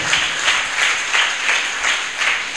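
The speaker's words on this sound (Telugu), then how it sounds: "చప్పట్లు కొట్టి దేవుని నామాన్ని గణపరుద్దాం." A church congregation clapping together in a steady rhythmic beat, loud and close, with bursts rising and falling in time, no speech over it.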